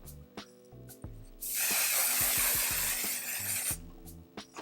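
A scented spray product hisses in one long, loud burst of about two seconds, close by, with quieter handling noises before and after.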